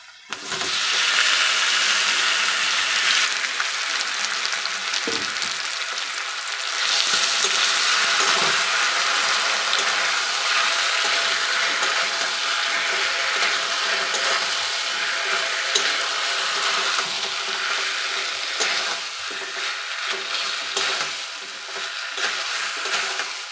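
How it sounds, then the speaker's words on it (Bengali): Potatoes and onions fry together in a pan with a steady broadband sizzle that runs close and loud for the whole stretch, with occasional scrapes and stirs and no voices. "তো পেঁয়াজগুলো লাল লাল করে ভাজা হয়ে গেলে তারপর আমি এই আলুগুলো দিয়ে দেব।"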